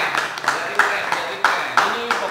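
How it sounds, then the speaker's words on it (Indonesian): Hand clapping from a group at a Depok Vespa Club scooter club gathering, several distinct claps in a loose rhythm over steady background voices. "kita tepuk tangan dulu sedikit."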